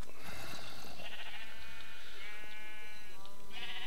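Sheep in Minecraft bleat several times in overlapping wavering calls on an automated sheep farm, fairly close and clear with no talking.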